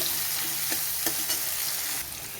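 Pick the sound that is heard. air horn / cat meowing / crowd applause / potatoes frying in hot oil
potatoes frying in hot oil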